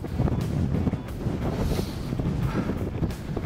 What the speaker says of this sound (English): That wind, it's intense.